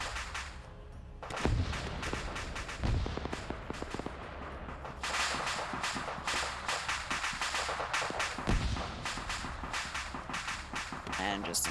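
A massive rocket barrage in a military shooter game, a rapid string of sharp cracking blasts and booms overlapping densely for several seconds, loud and close, with a few deeper thumps punching through the continuous fire.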